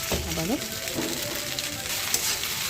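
Pasta frying in a pan with little oil and Maggi masala, stirred with a steady sizzle and scraping, close and continuous beneath brief vocal sounds.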